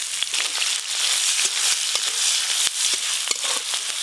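Chopped onion hits hot mustard oil seasoned with whole garam masala, giving a steady, loud crackling sizzle with sharp spits and pops throughout, no voices.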